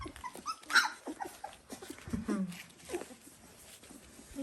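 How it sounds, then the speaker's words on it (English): A pile of three-week-old Dalmatian puppies whimpering and yipping softly in short, scattered cries close by, with faint murmuring voices in the background. "That's one hell of a puppy pile, Arya."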